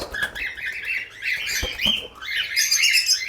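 Harsh, close bird squawks repeat in quick irregular bursts, several calls overlapping loudly with no talking.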